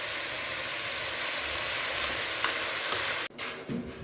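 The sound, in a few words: soya frying in a pan with salt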